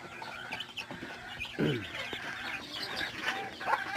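Chickens raised for meat cluck and chirp nearby, with one louder squawk partway through over low farmyard background noise and no talking.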